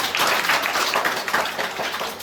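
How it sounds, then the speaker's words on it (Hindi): Children at a summer camp clap steadily for a boy named Devansh, a dense, even patter of many hands lasting the whole moment. "एक बार देवांश के लिए तालियां बजा रहे हो"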